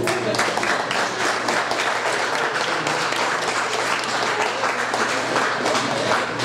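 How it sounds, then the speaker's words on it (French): Steady audience applause fills the hall at a 2016 student association candidates' debate in Quebec, dense continuous clapping at an even level throughout with no voices over it. "Vous pouvez les applaudir."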